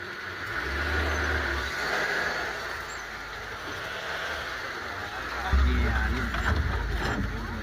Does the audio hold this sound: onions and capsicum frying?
no